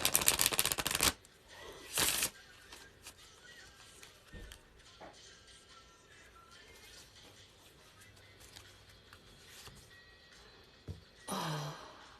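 Tarot cards are shuffled in two loud riffling bursts, one at the start and another near the end. Between them comes a long quiet stretch of soft handling and small clicks, with no talk.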